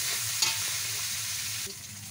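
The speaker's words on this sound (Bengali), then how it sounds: "এরপর ভালো করে নাড়িয়ে চাড়িয়ে নিয়ে হালকা করে ভেজে নেব।" Drumstick stems lightly frying in a pan for a Bengali pachan dish, giving a steady oily sizzle with a soft scrape of stirring midway, all close up and without voices.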